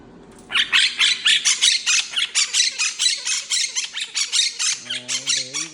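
Stanley, a pet parrot, squawks in a rapid run of harsh, loud, close calls that repeat steadily for several seconds, and a brief lower voice comes in near the end.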